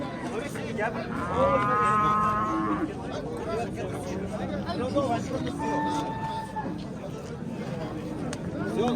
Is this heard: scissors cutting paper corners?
no